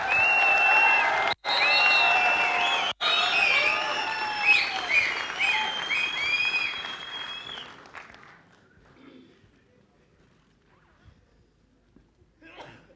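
A large crowd at a motivational talk breaks into loud, sustained applause with cheering voices over it, holding strong for several seconds before fading away into near silence.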